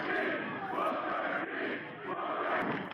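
A wrestling crowd cheers and roars for Booker T, a dense, continuous wall of voices with a few swells, loud and sustained throughout.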